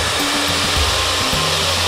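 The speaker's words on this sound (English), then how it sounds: "This is it, the fundamentals of hair drying." A hair dryer fitted with a nozzle blows hair over a brush, giving a loud, steady, close whooshing roar with a low motor hum that changes slightly in pitch as it moves.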